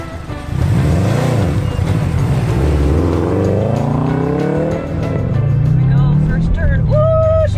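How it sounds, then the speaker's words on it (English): A car revs and shifts as it drives a lap around a race track with a former Stig coaching, the engine note climbing through gears and dipping between them, loud and close, with people talking over it. "So you're gonna do a lap around the track."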